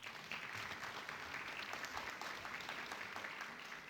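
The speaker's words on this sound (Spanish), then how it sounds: "Los aplausos para ella." An audience at a formal commemorative ceremony claps steadily, a dense, even wash of applause heard from a distance and held at a consistent level throughout.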